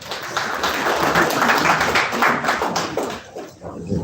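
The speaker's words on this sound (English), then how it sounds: "Please put your hands together for him" Audience clapping at an unveiling event as a speaker is welcomed to the stage, a busy patter of hands that swells and then thins toward the end, with faint voices mixed in.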